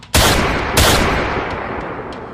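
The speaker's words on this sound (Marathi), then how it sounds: "सुभाषने आपल्या हातातील बंदुकीने 2-3 गोळ्यांच्या फेरी त्याच्यावर झाडल्या" Gunshot sound effect in a horror story, two loud sharp blasts close together, each trailing into a long reverberant decay with faint echoes.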